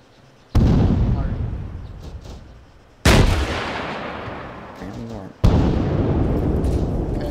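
Three loud, close explosive blasts in a tactical shooter game, a grenade burst and heavy gunfire, each hitting sharply and then rumbling off into a decaying roar before the next.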